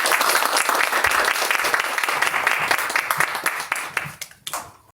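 A lecture audience at a university leadership academy applauds warmly to welcome a history professor, with dense clapping that stays strong before thinning out and fading in the final second.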